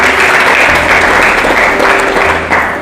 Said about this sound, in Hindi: ये वेरी गुड, ताली बजाइए।